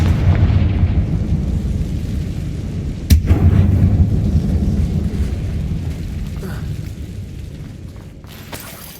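A Confringo spell explosion in the video game Hogwarts Legacy gives a loud, rumbling fiery roar with a sharp crack about a third of the way in, then slowly fades with scattered smaller bursts.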